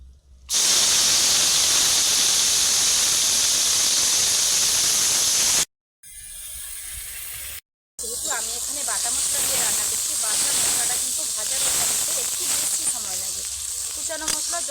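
Spice paste hits hot oil with a loud, steady broadband sizzle that drops out briefly twice, then resumes with softer crackling and spatter as the paste fries, close and continuous.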